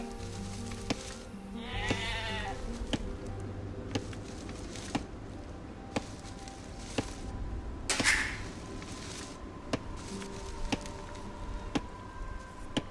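Sheep in Age of Empires 2 Definitive Edition on Xbox give one clear bleat near the two-second mark, set against a steady game soundscape with soft clicks, ticks and ambient hum.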